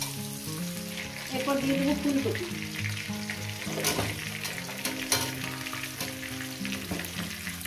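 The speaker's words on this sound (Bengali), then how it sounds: "এটা একটু ভেজে নেবো সুন্দর করে" Vegetables, including cauliflower, sizzle and fry steadily in a pan with salt, with stirring clatter, while someone talks briefly over the cooking.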